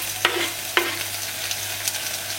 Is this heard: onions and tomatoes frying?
yes